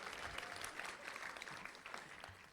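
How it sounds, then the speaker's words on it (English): An audience at an evening museum talk applauds, a faint, dense patter of many hands clapping continuously with no clear break. "More claps."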